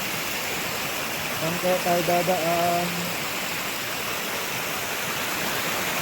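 Water rushes steadily at a tourist spot in Kyoto, Japan, a loud continuous flow close by that fills the whole clip, while a person speaks briefly over it.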